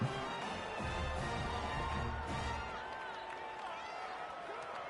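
Stadium crowd in the College Football 26 video game, a steady, dense roar and murmur that holds through the whole stretch at moderate level, likely with a voice over it.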